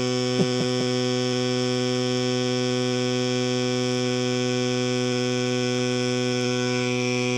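An AEROGOGO GIGA Pump A3 MAX electric bike pump runs steadily, a close, constant mechanical hum with strong tonal harmonics throughout, with no talking.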